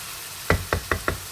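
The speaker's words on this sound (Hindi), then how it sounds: "कीमे को हम यहाँ पर जी अच्छे तरीके से भून रहे हैं" Four evenly spaced knocks of a spoon against a pan over a steady background hiss of fresh minced meat frying, close and moderately loud with no talking.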